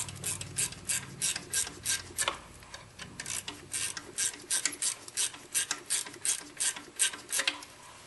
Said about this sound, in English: we can tighten the adjustment bolt until we get the proper tension on the fan belt